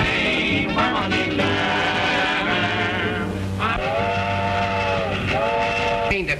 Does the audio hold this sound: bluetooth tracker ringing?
no